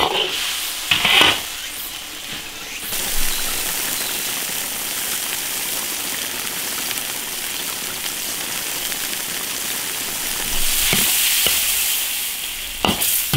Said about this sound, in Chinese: 小火慢炖